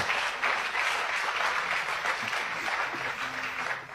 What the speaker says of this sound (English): they are clapping and shouting amen